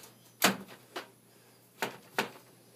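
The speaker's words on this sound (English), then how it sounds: "I'm gonna knock on it." A door is knocked on: four sharp, separate raps, the first loudest, spaced unevenly over a few seconds against a quiet background with no talking.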